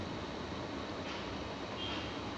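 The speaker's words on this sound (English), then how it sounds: "The train is about to depart." Video game train about to depart, a continuous low rumbling hum of the idling carriages with a faint hiss above, steady and moderately loud throughout, no voices.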